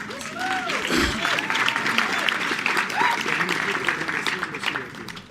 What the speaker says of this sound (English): Let's give a round of applause to the former minister.